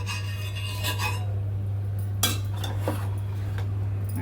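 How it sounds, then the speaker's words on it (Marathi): Ghee is spread across a hot dosa tava, producing soft scraping and metallic rubbing strokes over a constant low hum. "तूप लावून घेऊया तव्याला असं"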